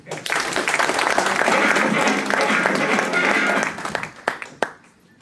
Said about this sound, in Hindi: लेकिन हैदराबाद के अच्छे लोग ताली खूब बढ़िया बजाता है यहाँ पे